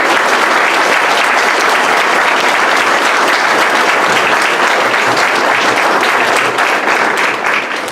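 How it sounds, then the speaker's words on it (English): Loud, sustained applause from an audience at a candidate forum, continuous dense clapping that carries evenly through to a slight fade at the end. "you applaud them for all the reasons that I've"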